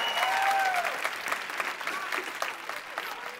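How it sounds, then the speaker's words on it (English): An audience gives a hearty round of applause, dense clapping from a crowd that starts strong and tapers slightly, with a few faint voices in the mix. "Can we give him a good round of applause?"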